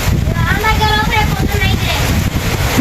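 Steady heavy rain with gusting wind roars throughout during a power cut, while a person talks over it close by.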